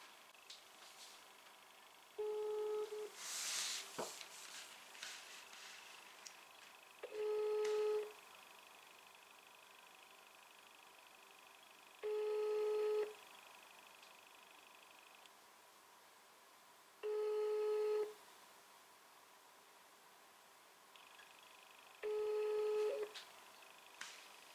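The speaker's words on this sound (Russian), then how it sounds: "это вызов идет к нему" Outgoing telephone ringback tone, five evenly spaced long beeps separated by about four seconds of quiet, clear and close, with faint rustling between.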